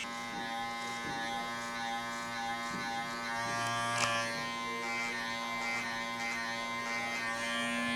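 Electric hair clippers buzzing continuously while cutting a mid taper fade on braided hair, a steady close whine with slight shifts as the blades move across the head, no talking.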